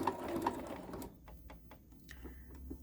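A sewing machine stitches binding onto a placemat or quilt. It makes a close rapid mechanical chatter for about a second, then stops, leaving light clicks and handling noise.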